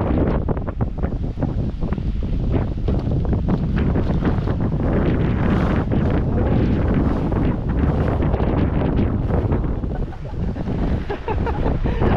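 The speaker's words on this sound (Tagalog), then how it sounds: "Lakas ng hangin." Strong wind roars steadily against the microphone, loud and buffeting throughout, with surf-like rushing underneath.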